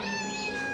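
A cat gives a single clear, close meow, sustained and tonal, in a quiet outdoor setting in Rishikesh.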